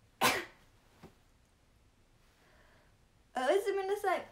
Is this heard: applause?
no